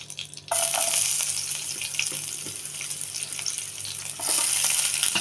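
Onions fry in hot oil with cinnamon and cloves for a chicken biryani, making a loud, steady, close sizzle that swells briefly near the start and again toward the end.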